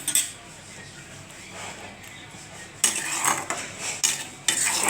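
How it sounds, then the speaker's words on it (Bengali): Fried eggplant goes into a pan of light shrimp gravy with sharp metal clinks and scrapes of a utensil against the pan, a soft sizzle underneath, and louder clatter bursts toward the end. "এরপর আমার এই যে ভাজা বেগুনটা আমি দিয়ে দেব।"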